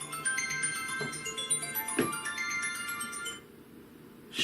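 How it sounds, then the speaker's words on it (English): A phone ringtone plays quietly as a melodic repeating jingle with a few soft thumps, stopping near the end, during a mukbang meal. "Shut up, phone."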